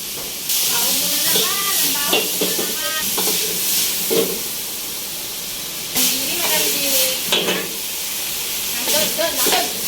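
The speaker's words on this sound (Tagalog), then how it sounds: "Ginisa na ulit." Loud, continuous sizzling of vegetables and garlic sautéing in a hot pan, with bursts of stirring and spatula scrapes and steady hiss throughout, while a person talks over the frying.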